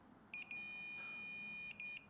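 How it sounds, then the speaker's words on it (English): A multimeter's continuity test gives a short beep, then a sustained steady tone, then another short beep and tone, each sharp, clear and fairly close, with quiet background and no talking. "when I connect I get a beep"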